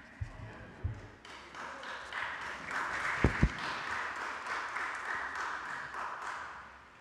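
A church congregation at a choral Holy Eucharist claps faintly and at a distance. The applause is steady and runs for several seconds, with a couple of sharper thumps in the middle.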